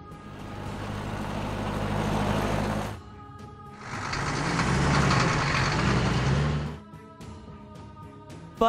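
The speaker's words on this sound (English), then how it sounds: "Police car." A vehicle engine rumbles in two loud sustained bursts separated by a short quieter idle, ending in a low hum.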